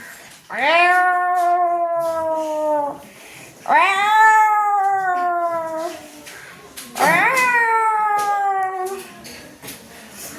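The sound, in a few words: cats fighting, caterwauling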